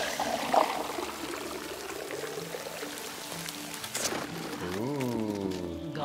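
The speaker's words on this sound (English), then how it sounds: "And I gotta water the flowers." Water pouring onto flowers in a video game, a soft trickling splash under game music and tones that end in a rising and falling synth sweep, fairly quiet throughout.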